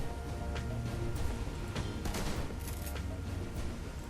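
Shotgun blasts in the turn-based game Shadowrun: Hong Kong, several short booming bursts spaced irregularly over a continuous bed of game music and ambience.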